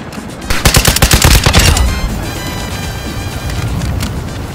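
Rapid video game gunfire in a tactical military shooter: a loud burst of fast automatic shots for about a second, then a sustained rumbling wash of combat noise.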